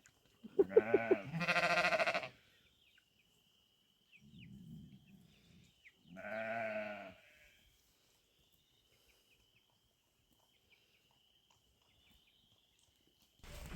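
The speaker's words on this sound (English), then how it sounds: "We got 2 ewes giving birth right next to each other at the same time." Ewes giving birth during lambing bleat loudly: two close, strained calls come in quick succession, a soft low murmur follows, then another drawn-out bleat against a quiet barn background.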